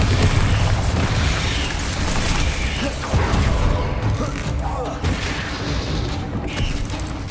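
Bombarda spell blasts in the Hogwarts Legacy video game come as a steady barrage of booming, rumbling explosions and crashing debris, loud and dense throughout with no pause.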